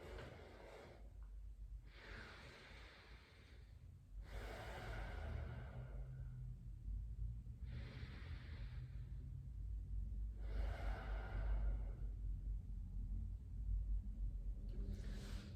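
Slow, deep breathing during a yoga class, with long airy inhales and exhales repeating every few seconds close to the microphone over a low background rumble, with no talking.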